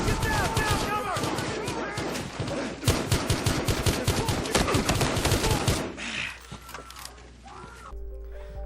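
Battlefield Hardline video game gunfire: dense rapid bursts of shots crackle nonstop for several seconds, mixed with shouting voices, then taper into scattered noise and a low hum.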